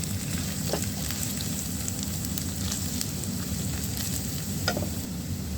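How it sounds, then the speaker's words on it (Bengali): Onion frying in a pan with ginger paste and garlic, a continuous crackling sizzle with occasional sharper pops and stirring scrapes, close and steady. "এখন দিয়ে দিলাম আদা বাটা, দিয়ে দিলাম সামান্য রসুন। এখন আবারও একটু ভেজে নেব।"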